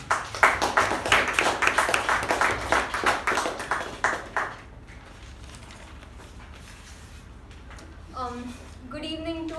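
An audience at a Toastmasters meeting applauds to welcome a speaker, a dense burst of hand clapping for about four seconds that then stops, leaving quiet room tone before a person starts talking.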